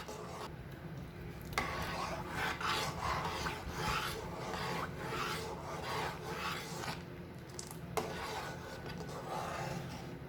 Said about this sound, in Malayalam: അപ്പം നന്നായിട്ട് ഇളക്കി കൊടുക്കണം.